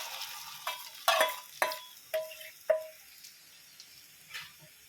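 A spoon scrapes and clinks in a pan while cornflour halwa is stirred and mixed, giving about half a dozen distinct, close knocks with a soft sizzle in between.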